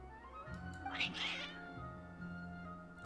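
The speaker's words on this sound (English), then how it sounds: "Kitties!" Cats meow in the video game Genshin Impact, with a short bright meow or two heard over steady game music and ambient tones.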